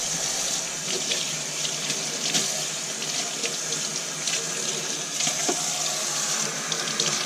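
Water runs steadily from a tap into a sink to prepare a guinea pig's bath, a close, even splashing stream that continues throughout without talk.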